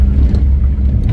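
A 1987 Daihatsu Charade G11R Turbo engine rumbles loudly and close, a brief deep revving burst with a hint of airy hiss, heard alone.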